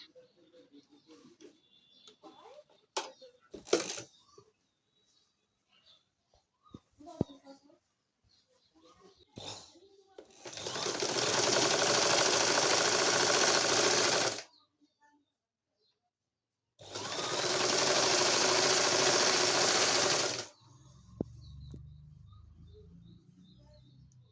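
A sewing machine stitches lace along the bottom edge of a baby frock, running in two sustained, close whirring bursts of about four seconds each, with quiet handling sounds and light fabric rustle before and between them.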